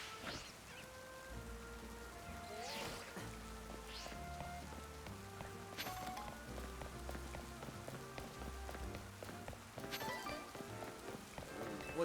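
Rain falling in the video game Pokemon Legends Z-A, a soft continuous patter of drops on surfaces, with game music tones and brief footstep-like bursts mixed in.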